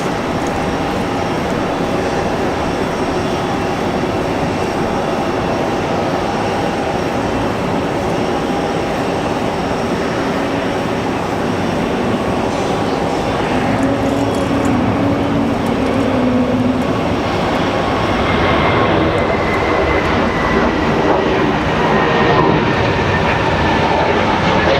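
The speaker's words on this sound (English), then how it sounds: "Sounds like we got an A220 somewhere." An Airbus A220 airliner passing near Raleigh Durham airport on a windy day, a steady distant jet roar under wind noise, swelling slightly with a faint rising whine toward the end, no talk.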